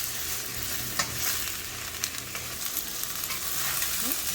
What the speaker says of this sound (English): Shallow fry it a bit.